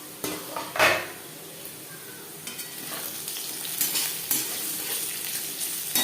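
Potatoes fry in oil in a pan over a medium gas flame, a soft steady sizzle broken by clinks and scraping of a utensil stirring against the pan, close and alone with no voices.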